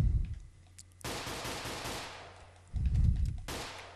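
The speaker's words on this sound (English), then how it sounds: "Try this revolver, see what that's like." Revolver shots ring out in the Xbox indie shooter Killbox, a few sharp, loud blasts spaced apart, each trailing off into a short noisy decay, with no voices over them.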